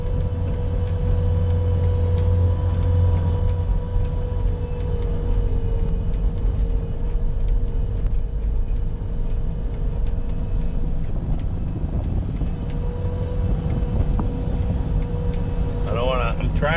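Bobcat skid steer plowing snow off a driveway during the 2022 blizzard: a steady, loud engine drone runs close by throughout, with a brief warbling whine near the end.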